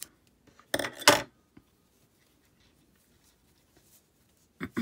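Scissors cut a machine-cranked knitted sock tube in a couple of quick close snips, followed by near silence and another brief cut at the end.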